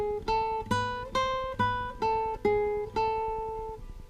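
A guitar picks out a Farruca scale run, seven or eight single plucked notes in a steady descending and ascending line, each ringing clearly and decaying, close and alone.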